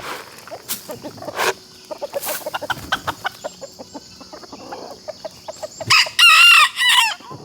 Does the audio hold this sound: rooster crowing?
yes